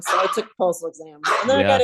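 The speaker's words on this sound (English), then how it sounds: "I'm sorry about the dog." A dog barks and yips in the background as someone talks over it, with short sharp barks breaking up her speech, fairly close and fairly loud.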